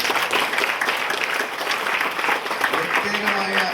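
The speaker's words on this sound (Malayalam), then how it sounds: "ഈ മക്കൾക്ക് എല്ലാവരും ഒരു നല്ല കൈയടി കൊടുത്തേ" An audience applauds prize-winning students at a school honours ceremony in Kerala, a dense, steady wash of many hands clapping that fills the whole stretch at close range.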